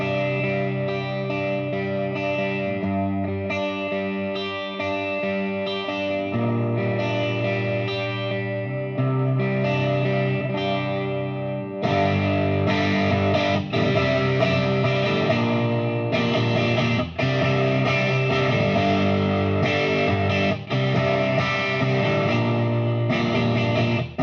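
Electric guitar played through a Vox AC30 loaded with Celestion Alnico Gold speakers, picked lightly then dug into for mild overdrive; sustained chords ring out with a gritty edge and swelling harmonics, getting louder and more saturated partway through.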